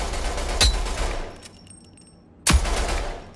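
Gunfire at practice targets in the video game Rogue Company, two loud sharp shots about two seconds apart with quieter mechanical clicks and game noise between them.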